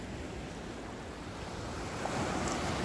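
Sea waves wash steadily against a rocky shore at a fishing spot with murky water, a continuous broad rushing surge with wind noise and no voices, swelling slightly louder toward the end.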